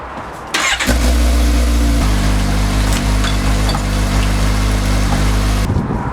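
A motorcycle engine starts with a short catch, then idles in first gear with the chain turning, a loud, steady low rumble close by for several seconds before cutting off abruptly.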